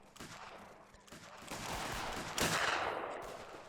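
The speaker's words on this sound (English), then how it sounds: "Bullets being fired past him." Rifle fire crackles at an Anglo-Zulu war reenactment outdoors, a ragged volley of several loud bursts in quick succession, rumbling and overlapping.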